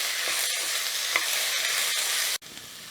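Onions sauté in a hot pan for pepper mutton gravy, giving a steady, close sizzle of frying with soft stirring scrapes, cut off by a brief break near the end before the hiss resumes.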